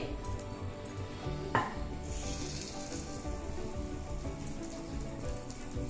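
A spoonful of batter frying in hot oil for a Guntur-style snack: a dense, steady crackling sizzle throughout, with one soft plop as the batter drops in.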